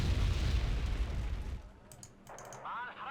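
Bombs dropped by a Harrier explode in Wargame: Red Dragon, a heavy rumbling blast that fades after a second and a half into quieter battle noise.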